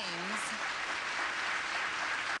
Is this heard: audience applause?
yes